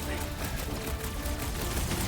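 Dense, continuous enemy gunfire from a Guardians of the Galaxy video game battle, a steady rattling fusillade on a rooftop beside a broken bridge, loud and filling the whole moment without pause.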